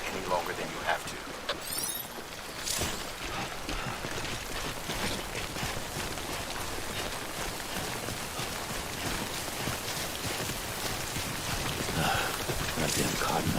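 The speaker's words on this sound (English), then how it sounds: "Don't stay out in the rain any longer than you have to." Steady rain falls in the video game Death Stranding, a dense, even hiss of drops that runs unbroken from start to finish with a few faint sharper sounds mixed in.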